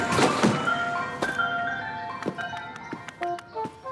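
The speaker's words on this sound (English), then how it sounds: "the ice cream truck will hit a pothole in the street" A cartoon ice cream truck plays its tinkling chime melody, loud and close, with bright ringing notes and a few thunks over a low vehicle rumble.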